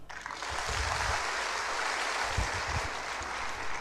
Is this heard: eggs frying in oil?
no